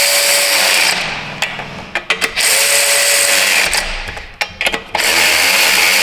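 A DeWalt 12V cordless 3/8 ratchet tightening bolts, loud whirring bursts of the motor that pause and restart several times with short clicking stops in between, close to the microphone.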